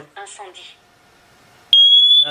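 Siterwell hardwired interconnected smoke and carbon monoxide detector sounding its test alarm: a loud, piercing steady electronic tone that starts abruptly after a person talks and holds alone to the end.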